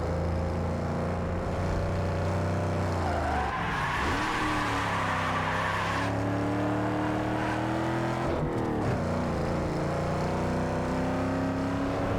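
A Lincoln Navigator SUV racing in Need for Speed Underground 2, its engine droning loud and steady, pitch rising through the gears with shifts and a brief tire skid partway through.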